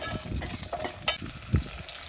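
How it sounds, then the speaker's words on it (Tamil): Crackling sizzle of fenugreek seeds hitting hot oil for a Tamil vatha kuzhambu, close and steady, with a few sharper pops and a light stirring scrape. "இது வெந்தயம் தான் போட்டு நான் தாளிப்பேங்க"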